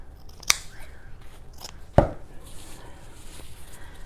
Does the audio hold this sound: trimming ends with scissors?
yes